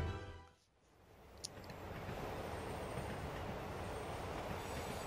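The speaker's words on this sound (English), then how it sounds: "Let's hop on that train real quick." A subway-style train rides through the city in the video game Marvel's Spider-Man: after a brief dip, a steady rolling rumble of wheels and carriage fills the clip, with a faint click and no talk.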